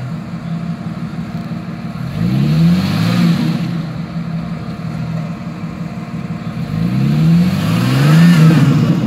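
An off-road 4x4 automatic car stuck with one wheel in the air, its engine revving hard in two rising surges between steadier idling, loud and close.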